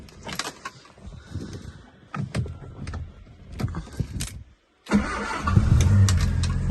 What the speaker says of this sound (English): I'll just fire it up for you.